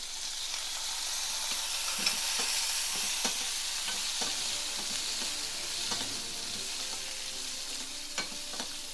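Ginger frying in a pan while making pickle for a Nizamabad-style appa bajji spread, a steady close sizzle with scattered light pops and stirring scrapes over nine seconds, no talking.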